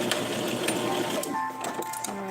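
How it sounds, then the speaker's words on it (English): Sewing machine stitching a doll outfit seam, a fast steady mechanical whir running close and continuous for a couple of seconds. "Sew on the line that you drew."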